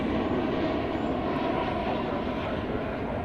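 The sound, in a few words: American Airlines Boeing 737-800 jet aircraft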